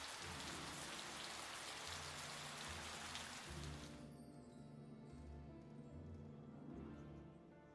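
Heavy pouring rain in a French audiobook, a dense steady hiss of downpour with a low rumbling bed, strongest for the first four seconds and then easing to a softer, continuous patter.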